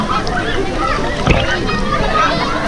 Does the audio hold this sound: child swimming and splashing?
yes